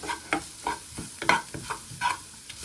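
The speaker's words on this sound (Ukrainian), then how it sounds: "перемішуємо, щоб всі спеції розкрилися" Spices being stirred and fried in a pan for a smoky pea soup, heard as a series of short scraping stirs roughly every half second over a faint sizzle, close and moderately loud, with no talking.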